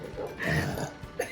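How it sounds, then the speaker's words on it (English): A short, throaty belch erupts during a family burping competition while seafood is eaten, rumbling briefly and close to the microphone. "By having a burping competition."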